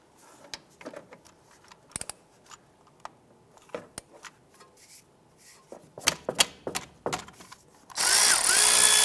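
Power tool working on 12mm caliper bolts on a 2001-2005 Honda Civic during a front brake job, scattered clicks and clanks followed by a loud, steady burst of the tool running near the end.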